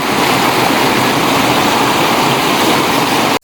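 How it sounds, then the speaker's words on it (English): A steady, loud rush of a small waterfall near Elgol, close by and constant throughout, ending with a brief dropout at the very end. "that's what's making all the noise, just a little waterfall"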